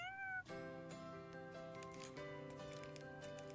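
A cat gives one clear, rising-and-falling meow at close range, and then a steady tonal backdrop of music carries on without voices.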